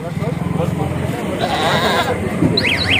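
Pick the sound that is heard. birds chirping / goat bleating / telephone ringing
goat bleating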